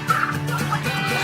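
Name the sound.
domesticated turkeys gobbling on farm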